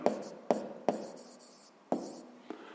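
A pen writes by hand on paper during a sixth-grade math exercise, with a few sharp taps and short scratchy strokes at an uneven pace, close and clear in a quiet room.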